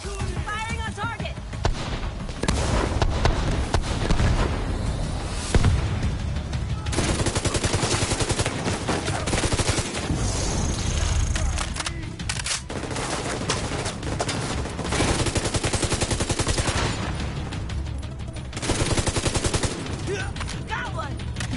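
Sustained gunfire and bursts of automatic weapon fire in The Division video game, dense and loud throughout, with game characters' voices shouting over the shooting.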